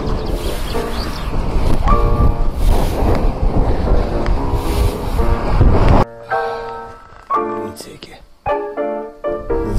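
Strong wind buffets the microphone in a loud, continuous roar that cuts off abruptly, leaving gusty bursts and scattered noises.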